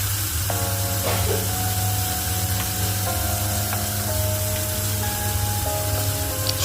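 Ginger paste hisses steadily in mustard oil in a pan for a potato and fish-head curry, a constant sizzle with a low hum underneath and faint tonal whines drifting in the background.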